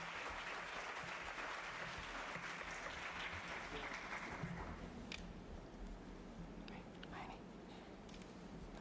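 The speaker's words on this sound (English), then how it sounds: "Let's give a big round of applause to our winners." An audience at a World Tourism Day celebration applauds award winners with steady, continuous clapping that sounds somewhat distant and soft, with a few quiet voices under it.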